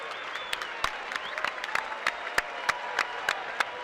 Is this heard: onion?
no